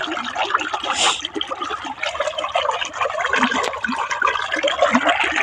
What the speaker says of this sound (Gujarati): પાણીનો બંબો અહીંયા પડી રહ્યો છે